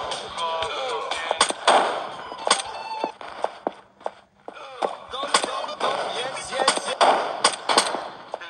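Rapid bursts of video-game gunfire crackle in repeated volleys while hunting Nextbots in a Backrooms horror game, sharp loud shots spread across the whole stretch with brief lulls between.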